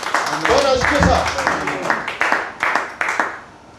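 A church congregation claps to welcome a pastor: scattered hand claps build into short bursts of applause that come in uneven waves and fade toward the end, while someone speaks over the start.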